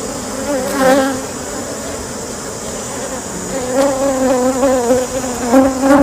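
Honeybees, including worker bees around a queen, buzz loudly and close, a wavering drone that swells and fades as individual bees pass near, with no talking.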